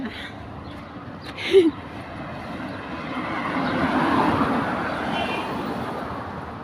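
An airplane passes overhead outdoors, a broad roar that swells gradually from faint to fairly loud and holds, with a brief knock near the start.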